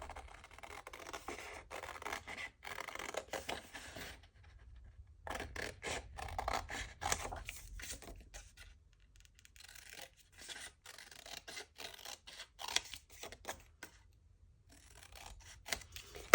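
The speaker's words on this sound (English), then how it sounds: "I'm going to cut out this picture here" Scissors cutting a picture out of a printed book page for a junk journal, a close, quiet run of crisp snips and paper rustles in bursts with short pauses.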